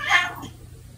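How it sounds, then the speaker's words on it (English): A single short cat meow, fairly close and clear, fading quickly into quiet. "cats meow"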